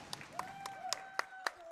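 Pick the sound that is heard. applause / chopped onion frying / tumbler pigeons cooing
applause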